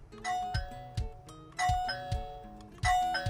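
An HP-97BELL electronic doorbell chime unit, set to its melody tone, rings out melodic ding-dong tones three times in a row, clear and close, with no talking.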